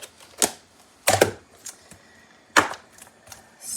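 A rubber stamp presses onto card stock, with three sharp, close thumps and faint handling knocks in between, heard alone without speech.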